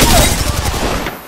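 A loud, dense burst of rapid weapon fire in Apex Legends on World's Edge, crackling close up for just over a second before trailing off.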